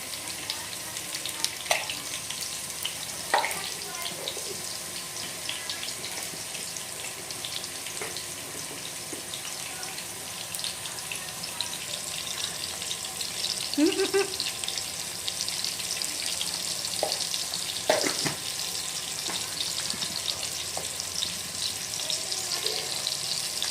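Potato pieces fry in a pan with salt and turmeric, giving a steady, faint, hissing sizzle throughout, with occasional soft clinks and bubbling pops and no talk.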